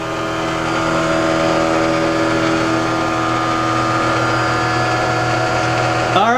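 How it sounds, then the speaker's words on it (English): A standard electric motor and belt drive spin a generator loaded with incandescent light bulbs, a loud steady mechanical hum and whine with constant tones running throughout, ending with a brief rising sweep. "Standard motor, standard belt drive, and a standard load of regular incandescent light bulbs"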